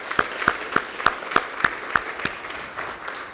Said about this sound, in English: I'd like to just have a round of applause for everything that she has done to make this special.